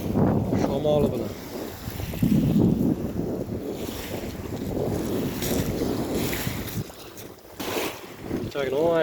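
Strong wind buffets the microphone at a crowded seaside in Croatia, a continuous roar with waves, and people talking underneath.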